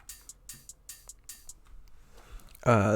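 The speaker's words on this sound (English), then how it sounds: "These are cymbals." Four quick, bright cymbal-like hits in a steady rhythm, followed by faint noise and then a loud sustained synth tone cutting in at the end.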